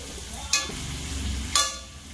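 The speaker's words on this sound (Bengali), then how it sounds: "কেটে রাখা বেগুন তেলের মধ্যে দেবো।" Chopped eggplant hits hot oil in a pan, giving two short bursts of sizzle about a second apart over a soft ongoing fry and a low background hum.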